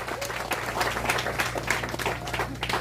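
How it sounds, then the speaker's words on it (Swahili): A church congregation breaks into steady, hearty applause, many hands clapping together in a dense, continuous wash with a low hum underneath. "Tupigieni Dama makofi mazuri."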